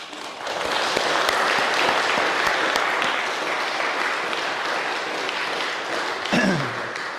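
An audience applauds volunteers at the inauguration of the renovated Temple in Niederstinzel: dense, steady clapping that holds evenly for several seconds before tapering off near the end.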